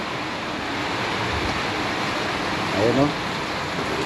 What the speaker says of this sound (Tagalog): Parang binubuhos lang galing sa langit yung ulan.